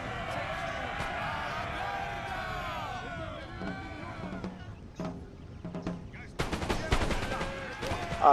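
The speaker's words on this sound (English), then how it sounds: "it's heavy volley on this light infantry" Musket volley fire in a Napoleon: Total War battle, a dense crackle of distant shots under background battle noise, then a louder burst of rapid volleys toward the end.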